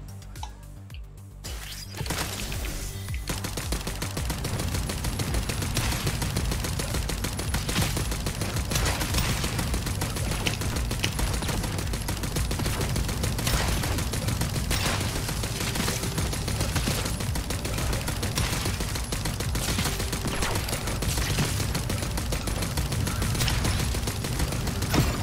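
Rapid, continuous gunfire in a shooting video game as the player fires at small fleshy creatures. The bursts stay loud and dense, with overlapping shots running almost without pause.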